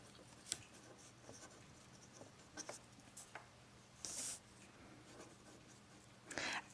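Pen writing an equation on paper, heard as faint, intermittent scratchy strokes with brief louder scribbles, quiet and close with no talking.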